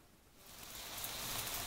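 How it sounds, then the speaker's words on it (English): Hail falling outdoors, a broadband pattering hiss that swells from faint to fuller over a brief moment and continues steadily, with no voices heard. "I think it's hailing."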